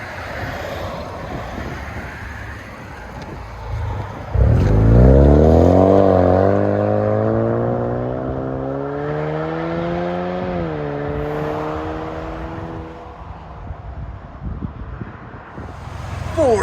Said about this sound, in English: Ford Mustang 4-cylinder turbo. Rear muffler delete 5-inch carbon fiber tips.